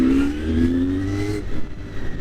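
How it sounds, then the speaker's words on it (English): A Honda VFR400R NC30 motorcycle engine revs with a rising tonal whine over a low rumble, then drops back to a rougher idle. "You get that low rumble as you go through the revs"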